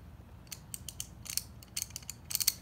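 Ratchet teeth click in quick, uneven bursts of sharp, close ticking, fairly faint, with short pauses between the runs and no voices.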